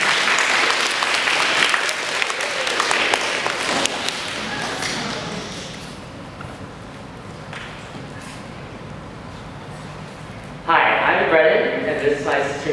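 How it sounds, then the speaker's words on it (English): Applause from a primary school audience, strong at first and tapering off, with talk and a burst of louder noise later. "So a round of applause to welcome our two students, Shannon and Brennan."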